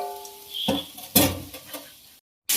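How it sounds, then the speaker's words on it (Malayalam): A spoon stirs a sizzling jackfruit dish with urad dal in a frying pan, giving a few close scraping strokes over a soft fry before a brief pause. "ഇതെല്ലാം ഇളക്കി കൊടുക്കാം നമുക്ക്"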